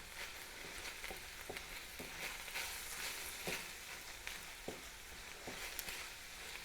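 Minced meat for a cottage pie frying in a pan, a steady close sizzle punctuated by regular soft clicks and scrapes of stirring, with no voices over it.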